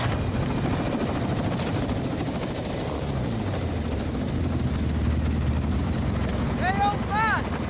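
Steady loud helicopter rotor drone in the game Call of Duty Modern Warfare 2, continuous throughout with voices talking over it.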